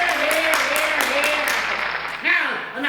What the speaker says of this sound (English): How about a big round of applause for them all?